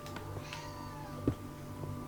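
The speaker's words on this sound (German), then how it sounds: "Die Katze beschwert sich auch schon." A cat gives a single short meow about halfway through, rising briefly over a steady low hum and faint background sounds.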